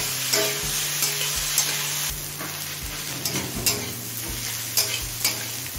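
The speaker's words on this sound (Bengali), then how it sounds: "এবার পেঁয়াজটা হালকা লাল করে ভেজে নেব।" Chopped onions frying in a pan with a steady bright sizzle, while a spoon scrapes and stirs in periodic knocks against the pan, close up.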